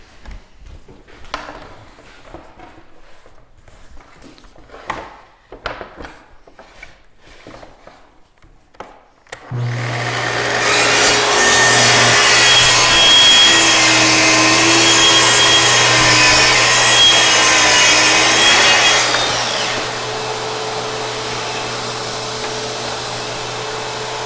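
A power saw cuts wood with a trigger-activated vacuum running alongside, a loud, steady broadband roar lasting about ten seconds that then drops to a lower hum, after quieter clattering tool handling at the start.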